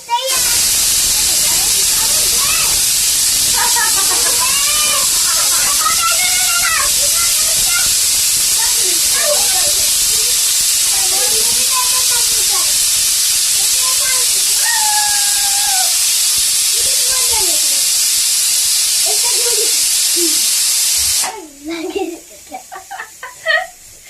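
A pressure cooker in a home kitchen lets out a loud, steady rush of whistling steam for about twenty seconds while voices talk over it, then cuts off abruptly, leaving quieter room sounds.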